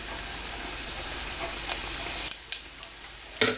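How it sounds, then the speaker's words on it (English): Mustard seeds, cumin seeds and dry chilies sizzle steadily in hot oil in a pan, a continuous close crackling hiss broken by a few sharper pops and spits near the end. "Heat 3 teaspoon of oil in another pan. That pan I'm going to add first mustard seeds, cumin seeds,"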